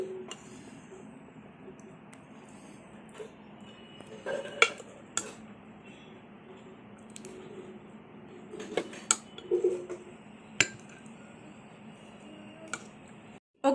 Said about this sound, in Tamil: இப்போ நான் இதை ஆஃப் பண்ணிவிட்டு வேறு ஒரு பவுலுக்கு ட்ரான்ஸ்ஃபர் பண்ணிக்கிறேன்.